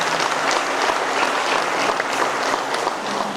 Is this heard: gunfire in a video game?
no